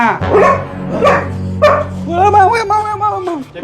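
A dog barks and yips several times in a domestic comedy scene, the barks close and loud and overlapping with people talking excitedly.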